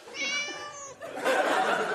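A cat gives a drawn-out, close meow followed by a rougher, noisier second call, loud and alone for about two seconds.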